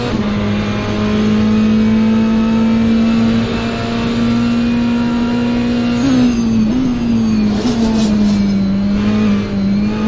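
GT3 race cars, a Lamborghini and a Ferrari, roar loudly and steadily around the Donington Park circuit, a sustained high engine drone with a brief pitch dip and shift as they work through a corner.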